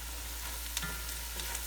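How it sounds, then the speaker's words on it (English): Onions fry in a pan, giving a steady close sizzle with light stirring clicks over a low hum, with no talking. "These onions are cooking pretty fast."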